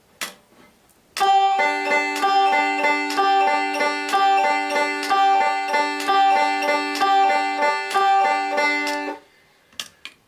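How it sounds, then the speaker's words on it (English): Banjo playing a swing triplet roll, thumb picking the downbeat and middle finger the triplets, a steady bright plucked pattern of even repeating notes for about eight seconds, played alone without talk. "if we were to play with the thumb on the downbeat and the middle finger on the ta-ta"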